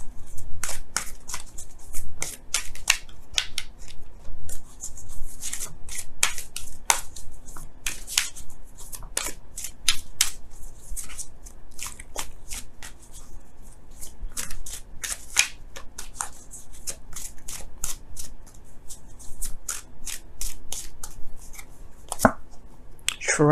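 Romance Angels tarot cards are shuffled by hand in quick, crisp riffling bursts, the papery flicks repeating steadily and close throughout.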